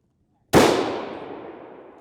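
A single sharp rifle shot fired at a long-range target on a shooting stage: one loud, close crack after a moment of silence, followed by a long echoing decay that fades over more than a second.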